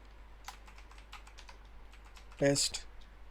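Keys tapped on a computer keyboard while a password is entered during a hacking walkthrough, a light run of quiet separate clicks, followed by a brief louder burst near the end.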